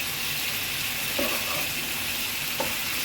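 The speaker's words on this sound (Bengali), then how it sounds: "মাছটাকে আমি একটু ভালোভাবে কষাবো" Fish being sautéed in a pan for a Bengali curry, a steady loud sizzle with faint stirring scrapes near 1.2 and 2.6 seconds, no voices.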